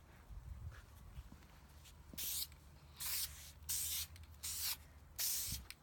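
Short hissing bursts from a spray can painting a wooden play button, about five bursts in a row, fairly close, with quiet movement and handling noise between them.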